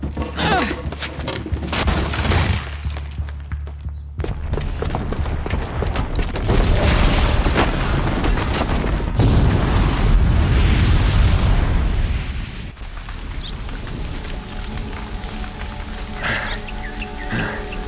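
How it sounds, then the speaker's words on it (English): A bomb detonates in Horizon Zero Dawn, setting off a long, heavy rumbling blast that swells and roars loudly for several seconds before fading into lingering debris and ambient noise. "the booby trap on the bomb downstairs is gonna get set off"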